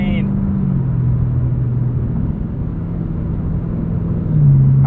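A 2022 Chevrolet Camaro ZL1 1LE with a 10-speed automatic drones steadily while being driven, a low engine hum with a gear change near the start and a rising rev at the end.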